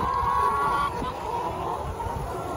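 Backyard hens cluck and murmur softly around an automatic nipple waterer, low throaty calls under a steady background hiss, fairly close and moderate in level.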